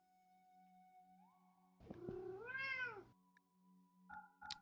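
A single drawn-out cat meow in the RimWorld video game, clear and close, rising then falling, set against quiet game tones and a couple of soft interface blips.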